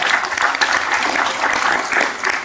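A conference audience in a culture hall applauds, a dense steady clatter of many hands clapping that stays loud and even throughout without pause.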